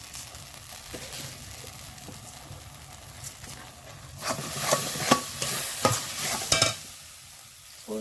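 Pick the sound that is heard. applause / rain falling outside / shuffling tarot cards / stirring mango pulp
stirring mango pulp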